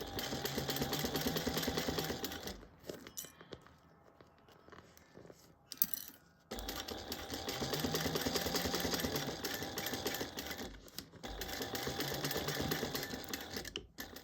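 A sewing machine stitches binding onto a bag in steady running bursts, pausing twice while the fabric is repositioned, then resuming at a close, even pace with no talking.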